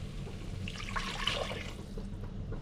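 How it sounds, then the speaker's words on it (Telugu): Water pours into a cooking pot for tomato rice, a steady splashing, gurgling stream lasting a couple of seconds at moderate, close volume with no speech. "సో దానికి డబల్ వాటర్ వేసుకున్నా."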